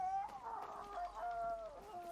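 Rooster crowing in the video game Far Cry 6, a drawn-out, wavering cock-a-doodle call with clucking edges, moderately close and fairly quiet, heard alone.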